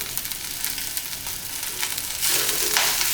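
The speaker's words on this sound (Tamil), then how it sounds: "நம்ம எண்ணெயிலே போட்டு வறுத்து எடுத்துடலாம்" Curry leaves fry in hot oil for a curry leaf chutney, giving a steady close crackling sizzle that grows louder and denser partway through, with no talking.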